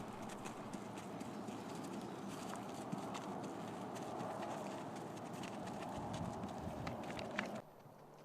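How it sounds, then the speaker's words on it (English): A horse's hooves clip-clop steadily around an indoor arena as it moves through its gaits, a continuous rhythmic beat heard at a moderate distance with no talking. "We had Michelle demonstrate each gait or speed twice around the arena."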